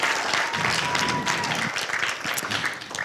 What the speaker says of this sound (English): You guys go ahead and give a round of applause.